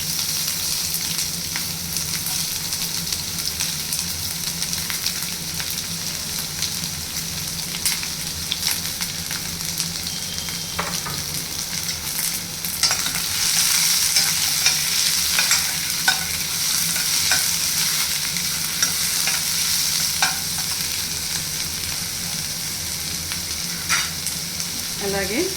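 Curry leaves and chopped onions fry in hot oil for an egg fry, giving a steady close sizzle with scraping stir strokes that grows a little louder about halfway through. No one talks.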